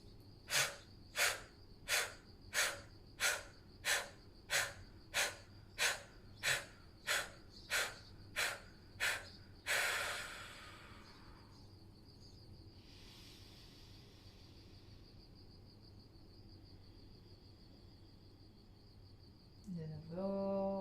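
About fifteen sharp, forceful breaths are pushed out through the mouth in quick even rhythm in kapalabhati practice, then a louder final burst and a long quiet stretch with faint room noise and a brief sound near the end.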